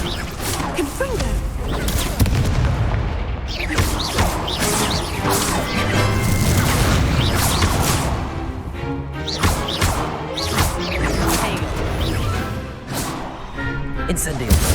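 Fire and explosion spells blast repeatedly in Hogwarts Legacy combat, loud crashing bursts and whooshes recurring throughout over game music, with someone shouting spell names along the way.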